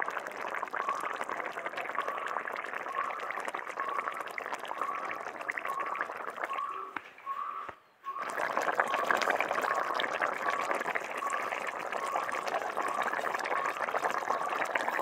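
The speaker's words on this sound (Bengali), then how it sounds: "ঝোল ভালোভাবে ফুটে গেছে।" Tamarind hilsa fish curry broth, sweetened with a little sugar, bubbles steadily in a pot, a soft continuous simmering hiss with a brief dip midway before resuming, no one speaking.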